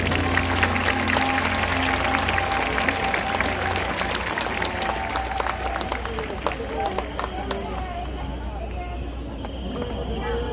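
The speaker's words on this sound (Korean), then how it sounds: "박수로 모시겠습니다" Steady applause from a large crowd at an outdoor united church service in Seoul City Hall Plaza, dense and sustained clapping without pause.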